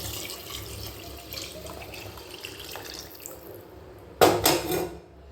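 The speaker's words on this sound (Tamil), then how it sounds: "இப்போது இந்த கரைசலை நாம் வதக்கின தக்காளி வெங்காயத்தோடு சேர்த்துக்குவோம்." Tamarind water pours into a pan of sautéed tomato and onion for a fish curry, a soft steady trickle and splash running for several seconds before a brief louder burst of liquid and pan clatter near the end.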